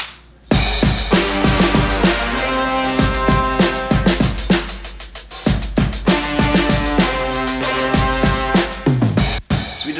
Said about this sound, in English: here's just a fuzzy electric that kind of sounds like a horn when you blend it in there as well